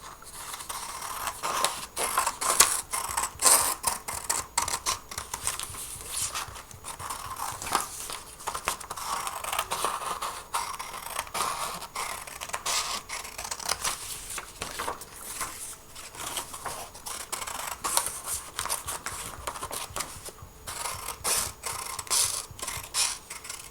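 Scissors snip through paper in a quiet close-up craft setting, with dense crisp cutting and rustling sounds running continuously throughout, soft and intimate with no talking.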